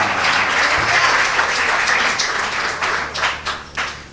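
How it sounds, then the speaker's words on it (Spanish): A church congregation applauding God during a sermon, a loud sustained wash of clapping from many hands that thins into a few separate claps as it fades. "Aplaude a Dios"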